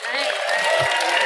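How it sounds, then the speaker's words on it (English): Audience applause breaks out at a voice actor panel for Overwatch at Wizard World Philadelphia 2018, a dense, steady wash of clapping from a crowd held at an even level throughout. "give these guys a big round of applause"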